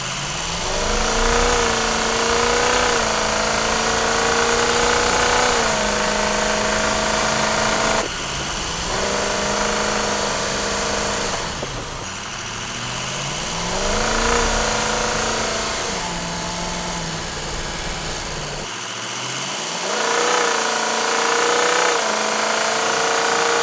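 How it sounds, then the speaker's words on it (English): Diesel truck with an SCT LiveWire TS+ tune, its exhaust rumbling loud and close with a rising and falling turbo whistle as the engine revs through several pulls. "checking out the turbo whistle out of the exhaust"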